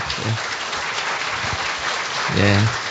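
A church revival service congregation claps steadily in sustained applause welcoming an elder pastor, with a voice briefly speaking near the end.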